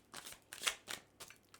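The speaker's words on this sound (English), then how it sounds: "I'm going to shuffle this deck several times." Tarot deck shuffled by hand, a series of soft, close riffling swishes in short bursts with brief gaps between them, quiet and without talk.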